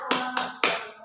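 Three sharp clapped beats for the Tepuk An-Nas chant in a first-grade Quran lesson, spaced unevenly and ringing briefly before the next, loud and close with no talk over them.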